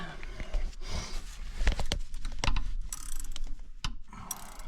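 Ratchet spanner clicking as it turns a socket on a Dodge Aspen, close and fairly loud, with rapid ratcheting bursts and a few sharper knocks, no talk.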